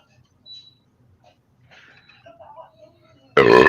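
A sudden, loud sneeze bursts out at the very end, following quiet background murmur and faint voices at a tabletop game session.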